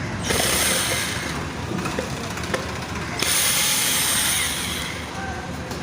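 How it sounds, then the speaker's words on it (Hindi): A screwdriver or ratchet turns out a screw to open the side cover of a BS6 motorcycle, giving close, rapid ratcheting clicks over a continuous mechanical whir, with a faint voice in the background. "इस वाले स्क्रू को ओपन करते हैं"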